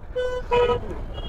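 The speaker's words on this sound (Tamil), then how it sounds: "பாருங்க எவ்வளோ டிராஃபிக்கு, எவ்வளோ வண்டிங்க இந்த இடத்துல நிற்கிதான்னு பாருங்கள்" Short car horn toots sound over a low rumble of road traffic, two quick honks in close succession.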